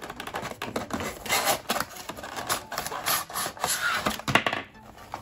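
Cardboard and plastic packaging rustle, scrape and knock as an EVGA X17 gaming mouse tray is pulled out of its box, a busy run of close, uneven taps and slides.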